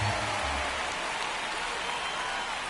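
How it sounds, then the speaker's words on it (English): Steady rain falls on a baseball field in the video game MLB 25, a dense continuous hiss with no break. "the field's not going to be able to hold up if the rain gets any worse than this"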